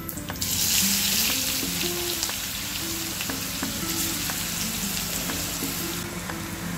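Ground masala sizzles and fries steadily in a hot pan while making thapivadi, a continuous loud hiss with occasional light scraping clicks of stirring throughout.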